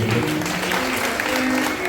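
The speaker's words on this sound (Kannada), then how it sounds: "ಆತನ ಸಂಗೀತಕ್ಕೆ ಜೋರಾಗಿ ಚಪ್ಪಾಳೆ ಸಲ್ಲಿಸಬೇಕು" A gathering at Shri Mouna Mallikarjuna Math in Mamadapur applauds a musician, a steady wash of clapping with faint tonal sounds lingering beneath.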